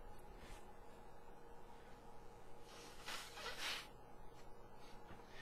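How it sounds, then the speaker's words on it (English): A person blowing their nose in a quiet room: one brief, breathy honk of air in the middle of an otherwise near-silent stretch. "I need to blow my nose here."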